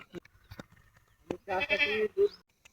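A goat bleats once in a long wavering cry, followed by a shorter bleat, after scattered footsteps and clicks in a quiet setting.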